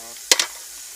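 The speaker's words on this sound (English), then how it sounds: "So spray that out." Two short hissing bursts of solvent sprayed from a bottle into a firearm during deep cleaning, close and fairly loud against a quiet background.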